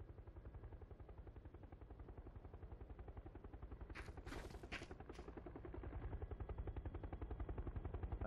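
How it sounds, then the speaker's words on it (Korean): A helicopter in the PUBG video game approaches with a steady, rapid rotor thumping that grows louder toward the end, while a few sharp gunshots crack in the middle. "어, 헬기 온다."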